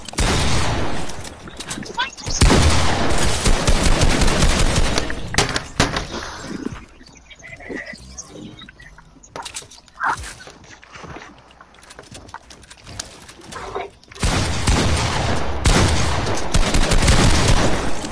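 Video game gunfire crackles in dense bursts at the start and again near the end, loud and close, with quieter stretches in between.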